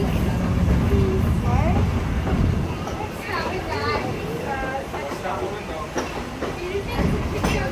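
The Walt Disney World Railroad train rolls along its rails with a continuous rumbling clatter, while voices chatter and a recorded narration plays over the ride noise.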